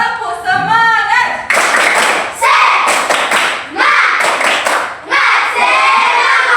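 Schoolchildren in a classroom repeat a rhythmic clap-and-chant routine, sharp patterned clapping bursts between a leader's voice and the group's loud shouted responses.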